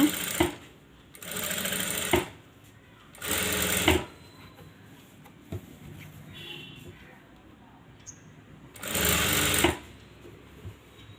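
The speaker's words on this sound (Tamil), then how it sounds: "கொஞ்சம் பொடி தையலாகவே வச்சுட்டு கொஞ்சம் மெதுவாகவே தைங்க" A sewing machine stitches a neckline slowly in short bursts, four loud runs of a few seconds each separated by quieter pauses with faint background sounds.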